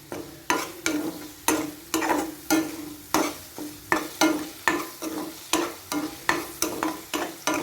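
Onions sauté in a pan for a chicken roast while being stirred, a steady sizzle broken by regular scraping strokes about twice a second, close and clear with no talking.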